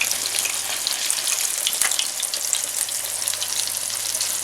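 Buttermilk-battered chicken pieces fry in a pot of hot oil, giving a loud, steady, crackling sizzle that holds evenly throughout without any voices.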